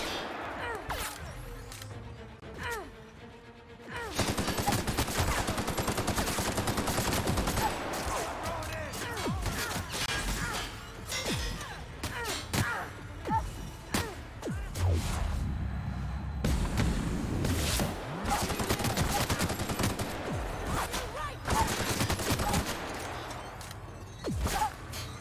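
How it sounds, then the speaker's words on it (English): Repeated bursts of enemy gunfire in The Outer Worlds video game, shots and impacts crackling through a busy combat mix over about twenty-five seconds, with brief quieter moments between volleys. "Why are you literally standing right next to me shooting me?"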